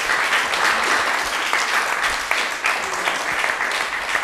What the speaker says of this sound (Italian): farei un applauso a questi ragazzi perché veramente se lo meritano